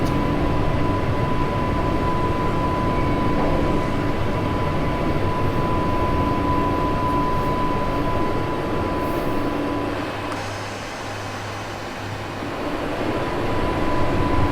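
A Class 484 electric train running in the game Train Sim World 2, a steady loud rumbling roar with a faint tonal whine, easing slightly near the end before building again.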